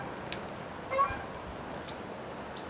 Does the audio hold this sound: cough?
no